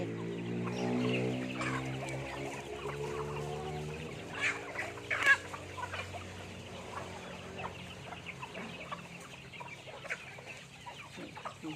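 Chickens at a Thai fighting-cock farm cluck steadily at moderate volume, with a drawn-out call near the start followed by scattered short clucks and rustling, with no talking.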